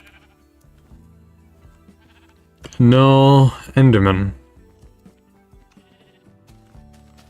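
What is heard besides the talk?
sheep bleating in Minecraft video game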